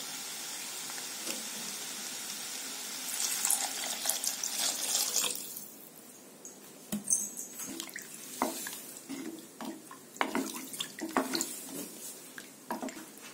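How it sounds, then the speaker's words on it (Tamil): Water is added to a pan of bottle gourd sambar with sautéed masala, a soft pouring splash at first, followed by quieter irregular clinks, drips and stirring. "இப்போ இந்த காய் வேகிறதுக்கு தேவையான அளவு தண்ணி சேர்த்துக்கலாம்."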